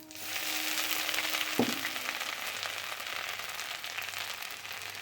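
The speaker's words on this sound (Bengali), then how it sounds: "দিয়ে দিচ্ছি 5 ফোড়ন। দিয়ে দেবো আদা কুচি।" Panch phoron and chopped ginger sizzle in hot oil for dal, a soft steady hiss and crackle heard close with a single sharp pop early on.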